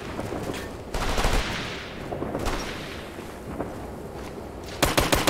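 Bursts of rifle and machine-gun fire crack in Operation Flashpoint: Red River, a loud volley at the start, scattered shots through the middle, and a rapid close burst at the end.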